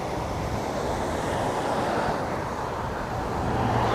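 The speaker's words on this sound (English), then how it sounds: "The ocean just doing its thing." Continuous roar of Pacific ocean surf at Channel Islands Harbor, with a broad, rushing wash and some wind buffeting, steady and fairly loud throughout.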